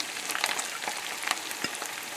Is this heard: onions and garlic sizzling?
yes